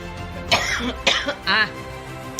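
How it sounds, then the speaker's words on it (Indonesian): A few sharp, close coughs in quick succession, sounding like someone clearing their throat. "Jadinya itu sampai sekarang batuk loh"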